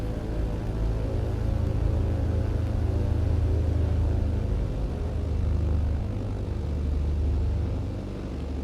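A Britten-Norman Islander twin-propeller aircraft in Microsoft Flight Simulator gives a steady, loud engine drone and propeller rumble that holds throughout with slight swells, and no voices.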